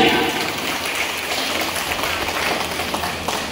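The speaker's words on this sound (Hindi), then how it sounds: "मेरी तरफ से जोरदार ताली।" Applause from the crowd at an office opening ceremony in Ramgarh, a steady wash of clapping that runs throughout at moderate level, with faint voices mixed in.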